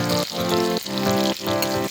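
Onion pieces frying in mustard oil in a hot wok, a loud close sizzle that comes in bursts with brief dips, with no talk.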